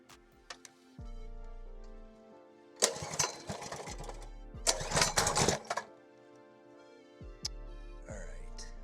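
A Ryobi pressure washer engine runs with its throttle shoved wide open, producing a low mechanical drone that swells into two loud, rough bursts of power before easing back down.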